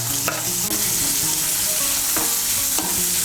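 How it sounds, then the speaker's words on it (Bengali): Chopped onions frying in oil while being stirred, a steady sizzle with several distinct scrapes of the spoon against the pan. "পেঁয়াজ কুচিটাকে লাল করে ভেজে নেব।"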